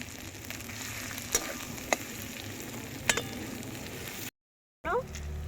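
Shrimp paste frying in a pan, a low steady sizzle with a few sharp clinks of a utensil stirring against the metal, then a brief pause and a short scrape.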